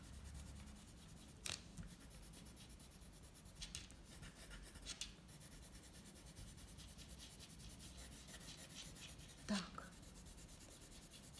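A yellow pencil colouring in a drawing on paper makes a soft, continuous scratchy rubbing, very faint and close, with a few brief louder strokes and taps.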